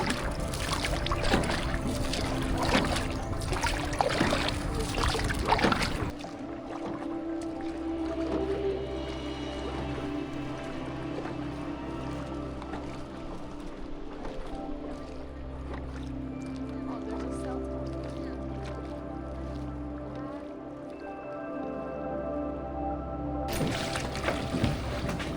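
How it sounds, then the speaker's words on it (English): Traditional wooden oars are rowed through calm water on a manually powered boat in Ninh Bình, Vietnam, with soft splashes and trickling under a steady low background, and brief louder stretches at the start and end. "No engines, no noise, just the sound of water and the oars."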